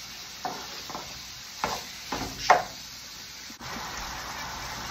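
Ground beef with garlic and celery cooking in a pan, stirred in a few short scraping strokes over a soft steady sizzle, close by, then settling into quiet frying.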